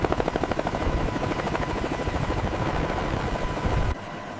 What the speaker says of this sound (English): As the helicopters flew in formation over the landscape